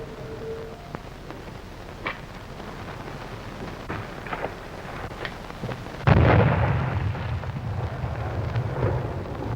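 A bomb, lit by a gang of men trying to crack a safe, goes off in one sudden loud blast that rolls into a long rumbling roar, after quiet thuds and faint background noise.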